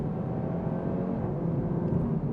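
A 2022 Audi TT RS Heritage Edition cruising at about 45 mph gives a steady, low engine rumble with road drone, heard from inside at moderate level with no talking.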